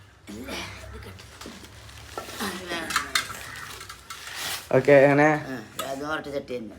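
Clay chatti cooking pots clink and knock together in several close, uneven bursts while a person talks over the handling.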